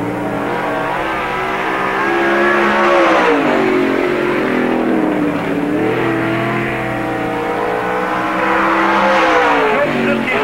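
A NASCAR race car laps Park Jefferson Speedway in 1997, its mid-pitched engine droning loud and steady as it revs up and down through the turns, sustained without a break.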